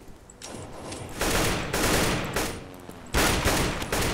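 Counter-Strike: Global Offensive gunfire on de_dust, with loud bursts of rapid automatic fire coming in several clusters, sharp and close with no talk.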